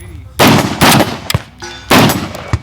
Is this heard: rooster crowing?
no